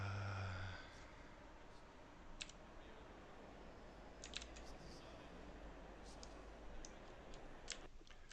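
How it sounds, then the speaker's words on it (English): Quick light mouse and keyboard clicks come while stewarding a sim race replay, scattered irregular taps at close range over a low steady hum, quiet and sparse. "Live sounds of me clicking away."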